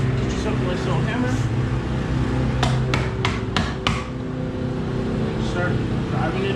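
A hammer drives a new rear wheel hub bearing into place through a block of wood, giving about five sharp, evenly spaced knocks close by over a steady background hum.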